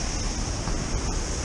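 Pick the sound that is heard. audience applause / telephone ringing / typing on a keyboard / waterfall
waterfall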